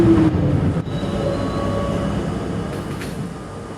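An R40 Slant C subway train runs underground with a loud, steady rumble, brief wheel squeals and faint clicking as the car rolls along.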